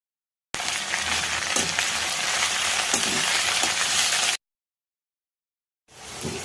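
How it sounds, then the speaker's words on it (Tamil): Ingredients sizzle steadily in hot oil for a Tamil mint chutney (pudina thuvaiyal), a continuous crackling fry close by, then a sudden break into silence before the sizzle returns faintly at the end. "அதே எண்ணெயில் சேர்த்து வதக்கலாம்."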